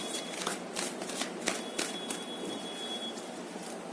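Tarot cards being shuffled in a quiet room during a reading, a steady papery riffle with a few sharper slaps, close and alone with no talking.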